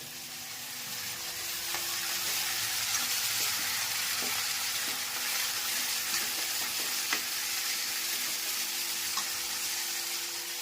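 Fenugreek leaves sizzle and crackle steadily in a pan, a soft continuous hiss with faint stirring clicks, no talking.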